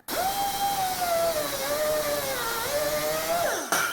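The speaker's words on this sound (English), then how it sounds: "I just took the die grinder" A die grinder bites into metal on a mill-style drill press table build, a sustained high whine with shifting pitch as it smooths a rough spot, loud and close, running steadily before cutting off abruptly near the end.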